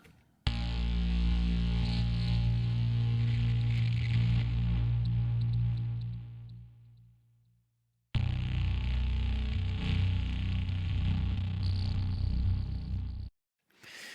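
A deep, sustained Omnisphere synthesizer tone, the "Burning Cables" patch layered as a sub part, with heavy low-end rumble holds steady, cuts to silence, then returns for a second long passage.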